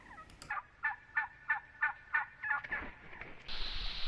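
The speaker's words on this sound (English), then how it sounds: "Now that Thanksgiving's come and gone, the turkeys are back out." Wild turkeys gobble near a pond, a fairly faint run of about eight evenly spaced rattling calls from a short distance, followed by a rise of hissy background noise.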